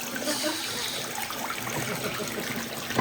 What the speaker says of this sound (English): So that sink works, but it has a waterfall feature.